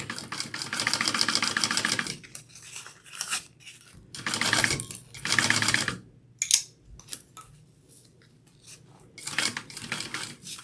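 A sewing machine stitches a seam on a bag in several bursts of whirring, each a couple of seconds long, with short pauses and handling noises between them, close and moderately loud with no talk.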